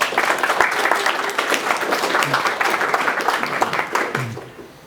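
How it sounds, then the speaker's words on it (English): An audience applauds at a DevOps meetup evening in London, dense steady clapping that holds for several seconds and then fades out. "Big round of applause to them, please."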